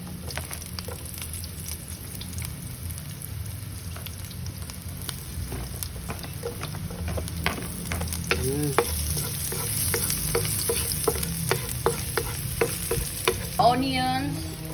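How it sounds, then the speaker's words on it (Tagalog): Garlic sautés in a pan for a dried squid (pusit) dish, giving a steady close sizzle broken by frequent scraping and stirring clicks from a utensil. "so saute the garlic"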